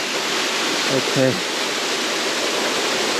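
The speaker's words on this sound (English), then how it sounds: "And so we finally made it to the waterfall." Waterfall in an Ecuador cloud forest roars as a steady, close broadband rush, with a brief spoken word near the start.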